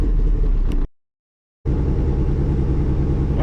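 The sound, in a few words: Audi TT engine idling and revving after tuning the AEM V2 fuel map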